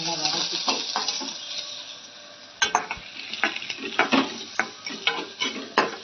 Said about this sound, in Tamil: வெங்காயம், 2 மிளகாய், மூடி கருவேப்பிலை, கொத்தமல்லி போட்டு நல்லா வதக்கிட்டு